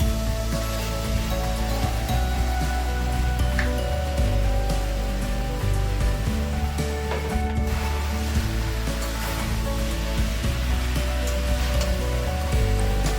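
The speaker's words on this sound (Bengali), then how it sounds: "মশলা ভালোভাবে কষা হয়ে গেছে, কেটে রাখা লাউগুলো দিয়ে দিচ্ছি।" Chopped bottle gourd tossed into hot sizzling masala and stirred, a dense continuous hiss and crackle with scraping, loud and close throughout.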